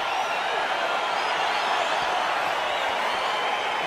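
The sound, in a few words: UFC 285 crowd cheering as the fight begins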